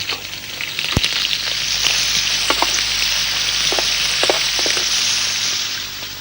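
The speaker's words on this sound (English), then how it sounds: "the bleeding sun is the colour of these prawns that are cooking in the pan right now" Prawns sizzling in a hot pan, a loud, dense continuous frying hiss with scattered sharp pops and clicks of stirring, no voices.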